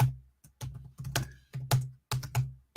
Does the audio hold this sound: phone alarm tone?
no